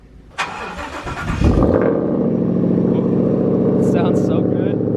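A truck with a Whipple supercharger and new exhaust starts with a sharp crank, then settles into a loud, deep, close idle that rumbles steadily, with brief voices over it near the end.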